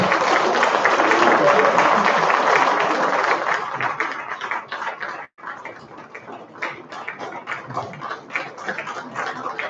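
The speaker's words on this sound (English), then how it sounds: "I think our president deserves another round of applause" An audience at a presidential address breaks into loud, dense applause that thins after a brief break into scattered, softer clapping.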